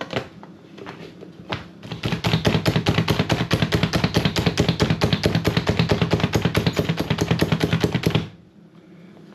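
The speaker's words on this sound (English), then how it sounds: "this will chop those down into very small pieces" Rapid, rhythmic chopping of vegetables with a hand-operated food chopper, dozens of quick even strikes close by, then stopping abruptly.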